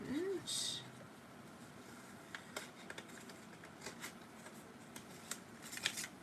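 Scissors snip through cardstock scraps at a card-making desk, a series of quiet, crisp cuts spaced out over several seconds after a brief voice at the start.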